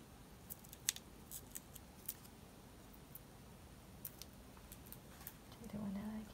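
Scissors cutting paper for a balloon-themed Stampin' Up! card craft, giving faint, crisp snips scattered across a quiet background, with a voice murmuring near the end.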